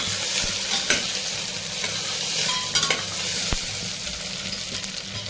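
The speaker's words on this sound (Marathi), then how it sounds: "तमालपत्र आणि काळी मिरी टाकून घेऊया हे सगळं आपण तेलामध्ये व्यवस्थितरित्या परतून घेऊयात" Bay leaf, black pepper and cloves sautéed in hot oil for Maharashtrian masala bhat, a steady soft sizzle broken by a few sharp clinks of a spoon stirring against the pan.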